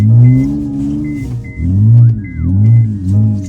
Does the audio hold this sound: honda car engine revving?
yes